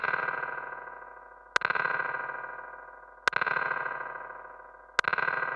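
A DIY spring reverb effect built in Ableton from delay, applied to a sustained distorted tone that swells and decays, with three sharp transient hits evenly spaced that splash and ring out.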